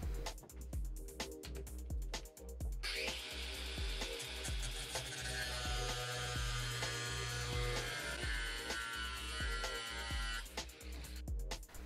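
A saw cuts along a marked line on a plastic bottle, rasping in steady back-and-forth strokes that run close and loud, with a denser, harsher stretch in the middle.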